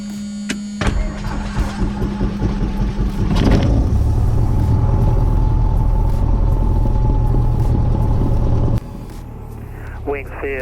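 A Cessna light aircraft engine drones steadily in the cabin while taxiing at Wings Field. A loud, constant low rumble is broken by clicks and brief knocks, and speech is heard over it.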